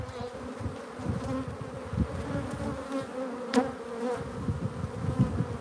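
Honeybees buzz steadily around a brood frame lifted from a hive, a close, dense droning hum with individual bees passing near, no talking.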